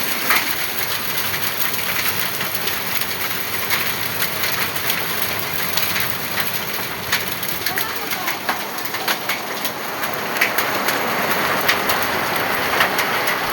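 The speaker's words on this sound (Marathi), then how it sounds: "दिवस आला गाराचा पाऊस" A summer hailstorm falls outdoors, a steady rain hiss dotted with sharp clicking hits that grow denser toward the end, with faint birds and voices in the background.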